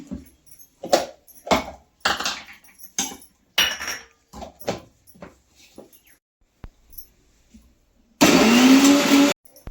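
Garlic and ginger paste is blended in a kitchen mixer grinder: a few light clinks and knocks of handling, then a loud, close whir lasting just over a second.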